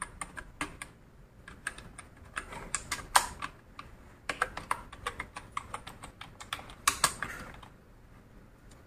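Rapid keystrokes on a computer keyboard during Hindi typing practice, irregular clusters of sharp clicks with brief pauses, close and clear with no voices.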